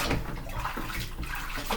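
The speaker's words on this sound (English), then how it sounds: "hot soapy water in my sink." Hot soapy water sloshes and splashes in a kitchen sink, a continuous close, moderately loud wash of watery noise with no talking.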